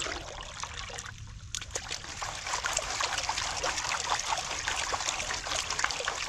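Muddy water trickles and splashes steadily as clay washes out of a gold pan, a close, continuous watery wash with brief splatters and no talk.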